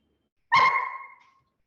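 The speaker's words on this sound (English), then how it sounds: "We have an office dog and he wants to be a part of this webinar too" An office dog lets out a single sharp bark, close and clear, with a short ringing tail fading out against an otherwise quiet room.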